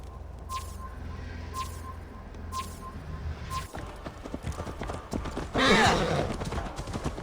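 In Assassin's Creed Valhalla, steady horse hooves clip-clop in a regular rhythm, then the horse lets out a loud whinny near the end, over a low background hum.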